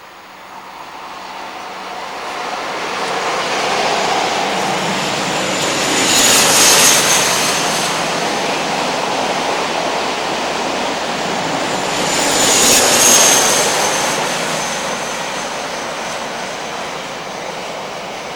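A Leeds to Southampton Freightliner freight train rumbles steadily past, its long roar rising and falling as a Virgin HST passenger train crosses it, two louder surges sweeping by without any voices.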